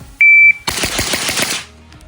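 A beep sounds, then a rapid burst of suppressed AK rifle shots fired with a ZVUK suppressor in a bill drill at an outdoor range, loud, close and evenly spaced before stopping.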